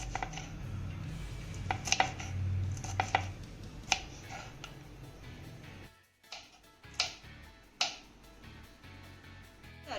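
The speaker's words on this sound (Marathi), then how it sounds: "अशाच पद्धतीने आपल्याला सगळ्या मिरच्या चिरून घ्यायच्या आहेत" A knife chops green chillies into large pieces on a board, a scattering of sharp, separate taps at irregular intervals over a low background hum.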